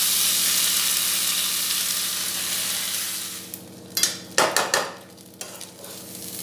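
Rice for a sweet yellow Bengali basanti pulao sizzles steadily as it fries in a pan, with a few sharp scraping stirs near the end.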